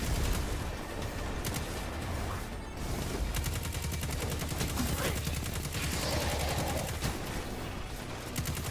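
Scout rifle fire in Destiny 2, a rapid run of sharp repeated shots crackling through a busy combat mix with dense background noise.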